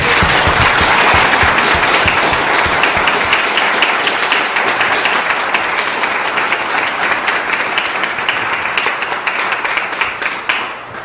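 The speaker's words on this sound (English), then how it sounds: "Please give them a round of applause for that." A candidates forum audience in Zebulon breaks into loud, close applause, with many hands clapping densely before the sound thins into scattered individual claps and gradually fades toward the end.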